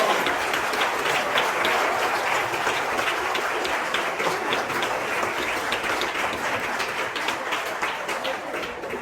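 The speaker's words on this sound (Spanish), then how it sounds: "Le aplauso fuerte a Dios." Loud, steady applause from a large church congregation, continuous clapping filling the whole stretch without pause.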